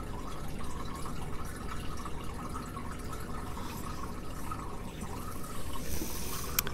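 Water draining from an aquaponics flood and drain bed: a continuous soft trickle and gurgle with faint dripping, steady and fairly quiet, with no talking.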